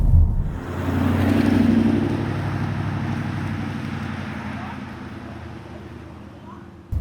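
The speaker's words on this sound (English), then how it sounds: "the throbbing engine note doesn't sound like a diesel" A deep, throbbing engine drones steadily from inside a moving 2017 Audi SQ7 diesel SUV, its note shaped by an exhaust sound actuator, with wind and road noise, rising slightly then settling.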